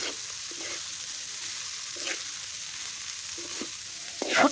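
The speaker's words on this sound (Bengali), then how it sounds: "এখন আমি সেই কেটে রাখা বাঁধাকপিটা দিয়ে দিচ্ছি" Chopped winter cabbage frying in a pan with dried fish, shrimp paste, spices and green chillies, a steady close sizzle with occasional stirring scrapes and a brief louder spatter near the end.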